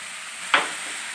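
Nuts fry in oil for Kabuli chicken pulao, giving a soft, steady hiss close by. One brief, sharper spatter or stir cuts through midway, and no voices are heard.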